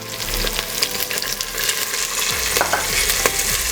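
Chopped yellow and red capsicum, celery and leeks sizzle in a pan for a kidney bean and broccoli stew, stirred with close scraping and clinking over a steady frying hiss, with no talking.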